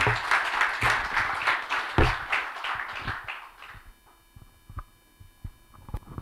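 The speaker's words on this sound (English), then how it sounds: "One more round of applause," Audience applause for the speakers at an evening talk, a dense round of clapping that thins out after a few seconds into scattered individual claps.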